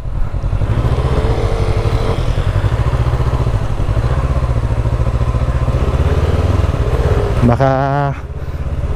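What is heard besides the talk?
motorcycle engine on a mountain road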